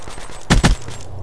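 VMP submachine gun fire in a 2v2 online video game match: two quick, loud, close bursts in rapid succession over a low background of game ambience.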